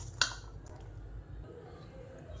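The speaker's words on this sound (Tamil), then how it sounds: "எல்லாத்தையும் நல்லா கலந்து விட்டுட்டு பார்க்கலாம்" Tamarind rice (puliyotharai) is stirred in a pot: a single sharp clink of a spoon against metal, then soft, faint scraping and squishing of the rice, quiet and close, with no talking.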